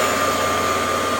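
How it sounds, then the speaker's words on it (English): A Black and Decker 282/550 valve grinder grinds the stem of a big block Chevy valve, producing a loud, steady motor whine with a grinding hiss that holds unbroken from start to finish, close up and with no talk. "then we'll grind the stem on it"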